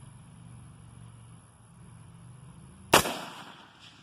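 A single sharp gunshot from an incendiary round fired at a can on a shooting range cracks out loud and close near the end, after a stretch of low steady background hum.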